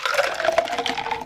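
A mocktail with a cinnamon stick being poured, giving a steady, close liquid stream that runs unbroken for just over a second with no talking.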